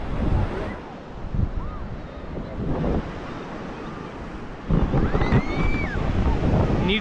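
Sea waves wash steadily onto the shore at Bakkhali beach, with wind rumbling and buffeting the microphone in gusts. Faint distant voices sit in the background.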